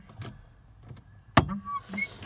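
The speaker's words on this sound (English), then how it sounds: "I get this clunking sound." Pressing the clutch pedal on a Vauxhall Vivaro van gives a single sharp clunk, close and loud, rising out of a quiet background of faint mechanical creaks inside the vehicle.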